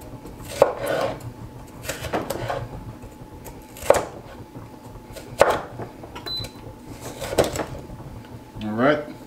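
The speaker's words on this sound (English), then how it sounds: "we're just going to cut these bad boys in half like this" A knife chops cabbage and vegetables in half on a board, with several sharp separate thunks spaced a second or two apart, heard close under a voice talking throughout.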